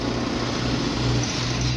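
Steady, loud machinery rumble and drone from nearby heavy equipment digging up the ground at roadworks in Bank, London, continuous throughout with no voices.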